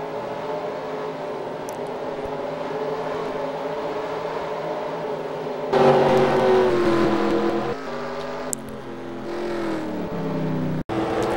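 Race cars at Hickory in a racing video game drone with a steady, overlapping engine whine near the finish, swelling louder partway through and then easing, with no talk.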